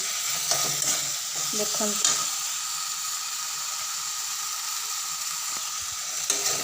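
Fish head fries in a hot pan under a steady hiss of sizzling oil, with several scraping stirs of a spoon early on and a few more clinks near the end.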